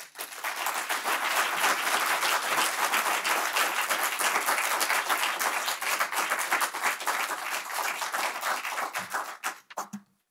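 An audience at the Kingsley & Kate Tufts Poetry Awards reading at the Huntington applauds to welcome a speaker to the stage. The clapping is loud and sustained for about nine seconds, then fades out quickly.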